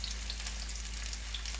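Squash and zucchini frying in a generous pool of hot oil, a steady, even sizzle with faint crackles running unbroken throughout.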